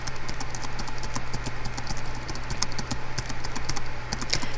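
Steady, close typing on a computer keyboard in a soft-spoken tournament sign-up roleplay, with quick, even key clicks over a constant low hum and no talking.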